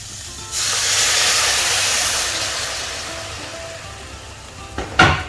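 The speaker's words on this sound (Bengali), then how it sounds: "এবার আমি কিছুটা জল এর মধ্যে দেবো, যাতে সবজিটা তাড়াতাড়ি সেদ্ধ হয়ে যায়।" Water pours into a hot pan of cooking vegetables, setting off a loud, broad hissing sizzle that gradually fades, followed by a sharp clink near the end.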